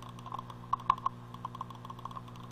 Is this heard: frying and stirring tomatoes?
no